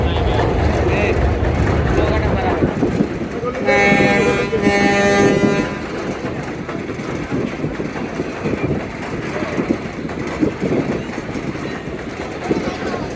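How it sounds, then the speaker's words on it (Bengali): A passenger launch at a river ghat churns its engine in reverse gear and gathers speed with a steady low rumble, and a loud horn blast sounds for about two seconds. People talk over the engine throughout. "ধীরে ধীরে স্পিড বাড়াচ্ছে ব্যাক গিয়ার"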